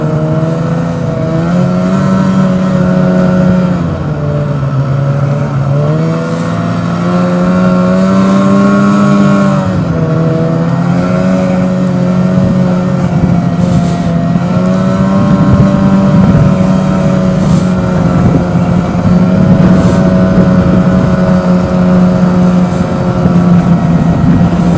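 A snowmobile runs along a snowy trail in early March, its engine a loud, close, sustained drone that rises and falls in pitch as it speeds up and eases off, with wind buffeting and no speech.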